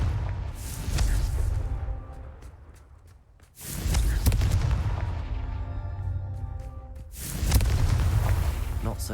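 Confringo fire spell explosions in Hogwarts Legacy, three heavy booming blasts spaced a few seconds apart, each swelling loud then slowly fading with crackling tails.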